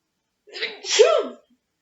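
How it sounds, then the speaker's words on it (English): A single close sneeze, a short breathy intake followed by a sharp, explosive burst, then silence. "I'm going to sneeze."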